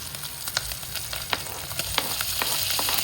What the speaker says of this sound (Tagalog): ilalagay ko na tong sibuyas